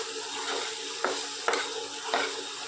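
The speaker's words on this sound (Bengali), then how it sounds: "এবার আমি ভালো করে মিশিয়ে নেব" Fish being mixed with spices, onion, green chilli, garlic and ginger paste in a pan, quiet stirring scrapes with a few sharp utensil knocks over a soft background sizzle.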